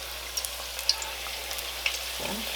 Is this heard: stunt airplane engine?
no